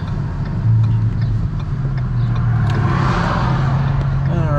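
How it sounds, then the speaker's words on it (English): Car pulling up to a Sunoco gas station: steady low engine rumble and road noise at close range, loud throughout, with a slight rise in engine tone partway through as the vehicle rolls in. "Alright, pulling up to the Sunoco."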